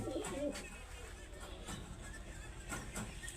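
Punjabi-bred pigeons coo softly, a low burbling call near the start, set against a dull steady background rumble outdoors, with faint clicks later.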